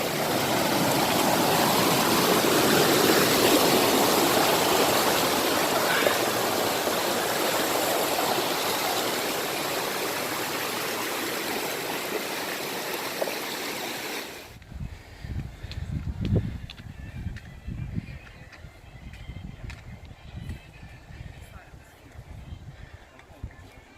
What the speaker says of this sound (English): Made it to another river crossing.